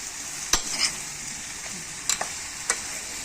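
Garlic and zucchini fry together in a pan under a soft, even sizzle, broken by a few sharp spoon scrapes and taps as the pieces are turned.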